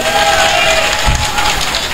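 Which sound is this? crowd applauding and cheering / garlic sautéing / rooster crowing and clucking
crowd applauding and cheering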